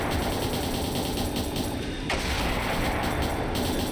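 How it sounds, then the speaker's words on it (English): Missile attack in the game Trails in the Sky the 3rd: a loud, continuous barrage of explosive blasts and crackling impacts, with a sharp hit near the middle and no talking. "And a missile."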